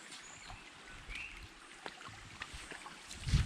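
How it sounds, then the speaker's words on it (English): A small stream on a hike to the Salto Santa Clara waterfall in Yauco, Puerto Rico, gives a faint, close trickle of flowing water with a few soft splashes and light wind noise, and no talking. "So it's a nice little stream here that we'll be crossing."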